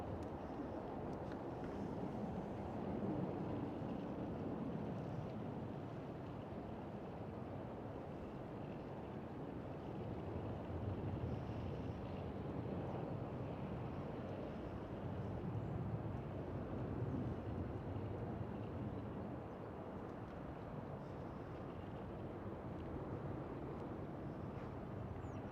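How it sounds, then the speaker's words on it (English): A KLM Boeing 777 taking off at Amsterdam Schiphol airport, heard as a long, steady, distant jet roar mixed with wind noise on the microphone. "KLM 777 takeoff"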